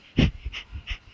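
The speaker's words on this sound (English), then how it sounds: "So this breath is short bursts through the belly." Breath of fire yoga breathing: three quick, sharp exhales pumped from the belly in a steady rhythm, close and fairly soft, with no talking.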